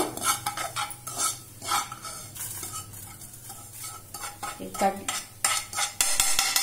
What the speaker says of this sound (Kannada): ಈಗ ರವೆ ಕೊಬ್ಬರಿ ಎರಡು ಹುರ್ಕೊಂಡಿನಿ ತುಪ್ಪ ಹಾಕಿ